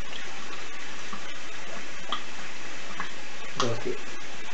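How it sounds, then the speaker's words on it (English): Running tap water and splashing as a face is rinsed after a wet shave with shave soap, a continuous close wash of water with a few brief louder splashes. "I'm going to rinse the face."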